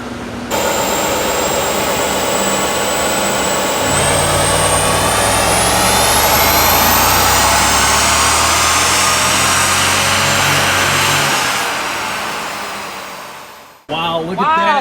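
A BMW E39 M5 V8 runs hard with its mass airflow sensors disconnected, a loud, sustained roar and drone as if on a dyno, then winding down near the end.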